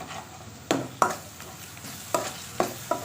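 Garlic-ginger paste sizzles softly in a pot, punctuated by about six sharp scraping stirs of a spoon at irregular intervals, close up with no talking.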